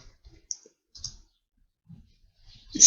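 A few light, sparse clicks of keys on a computer keyboard while a git commit command is typed, quiet and close in a silent room.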